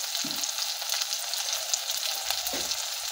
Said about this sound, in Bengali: আমাদের মশলাটা কিন্তু কষানো হয়ে গেছে। এবার আমরা হলুদ গুঁড়ো দিয়ে দেবো পরিমাণ মতো।